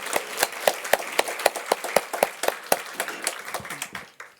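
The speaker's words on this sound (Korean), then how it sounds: "우리 찬양대 위해서 박수 한번 쳐주시겠습니다" A church congregation claps for its choir during a Sunday worship service, a brisk run of distinct, fairly even handclaps that thins out and fades toward the end.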